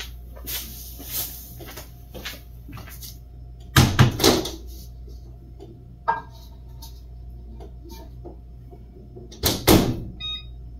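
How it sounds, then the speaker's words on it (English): A microwave oven heating a bowl of instant tonkatsu ramen with water in a home kitchen gives a low steady hum, broken by two sharp door thumps and a short electronic beep near the end. "And warm it up in the microwave."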